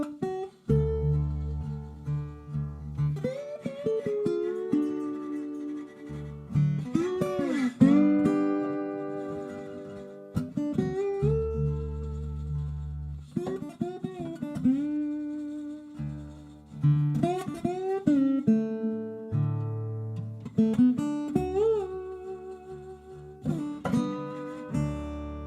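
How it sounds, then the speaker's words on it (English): Acoustic guitar in open D tuning playing the River of Jordan melody with a few chords, fingerpicked at a moderate pace with bass notes and higher melody notes ringing out, heard alone and fairly quiet. "if I only play the melody and a little bit of the chords, then it would sound like this"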